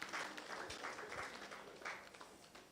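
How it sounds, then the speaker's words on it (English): Guests at a polytechnic alumni reunion dinner in Lagos applaud, with scattered hand claps heard faintly at a distance in a room. "can we give him another round of applause"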